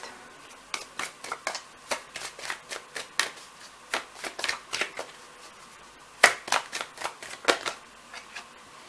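Tarot cards being shuffled and handled in a quiet room during a pick-a-card reading, a steady run of crisp riffling snaps and flicks, close and fairly soft, with one sharper slap near the end.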